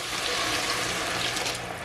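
About one and a half cups of water is poured into a pot of Sri Lankan dry fish curry, a steady close rushing splash that runs evenly and ends with a brief clink.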